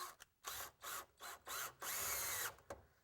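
Power drill driving screws into wooden studs in short bursts: six or seven whirring runs of rising and falling motor pitch separated by brief pauses, close and clear, no talking.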